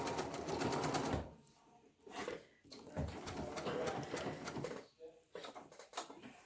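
A sewing machine stitches a fabric face mask in close, rapid mechanical bursts, running in several spurts separated by brief pauses and a few clicks.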